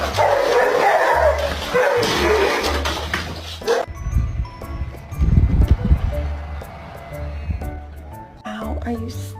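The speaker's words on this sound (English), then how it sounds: "Bark at your dog." Small dog yips and barks in short bursts close by, mixed with whimpering, while a person talks throughout.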